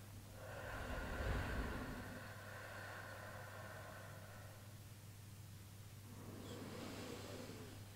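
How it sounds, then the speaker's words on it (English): Slow, deep breaths drawn in and let out during a kinesiology and Tuina massage therapy session, soft and close, with a steady low hum underneath and a quieter breath near the end. "So can you give me three nice long breaths?"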